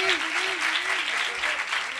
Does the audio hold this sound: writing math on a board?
no